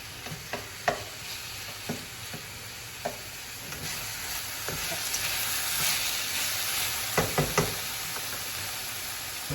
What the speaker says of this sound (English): That's going to be the name of the game with stir fry, just to make sure things don't get burnt.